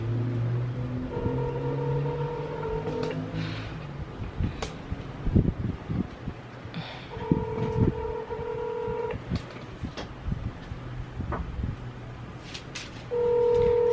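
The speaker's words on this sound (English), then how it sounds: "Still ringing." A phone call's ringback tone repeats in steady pulses, near and clear, with faint background noise and brief rustles between rings.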